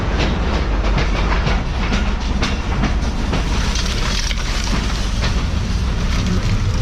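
Mohen Jo Daro passenger train running on track in Sindh after heavy rain, a loud continuous rumble and rattle of carriages with rhythmic clickety-clack of wheels over rail joints, heard from on board and with no talk.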